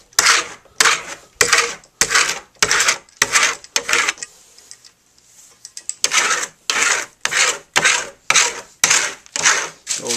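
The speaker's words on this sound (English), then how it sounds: "And when you burnish, you want to burnish in every direction." A trowel burnishes colored wax over old-world Venetian plaster in quick, rhythmic rubbing strokes, a bright scraping swish repeating about twice a second, pausing briefly midway before resuming, close and loud with no talk.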